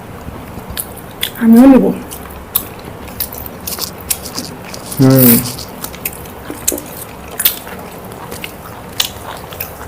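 Someone eats rice with chicken curry, soft wet chewing and biting sounds close to the mouth, with two brief spoken phrases cutting in between.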